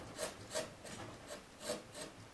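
A narrow gouge scrapes wood while levelling the background of a carved house number, giving about six soft, rhythmic rasping strokes, close and quiet with no talk.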